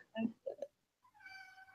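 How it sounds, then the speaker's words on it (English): A cat meows in a short run of calls: two or three brief mews, then a longer drawn-out meow after a pause, close and fairly clear in a quiet room. "Is that your cat?"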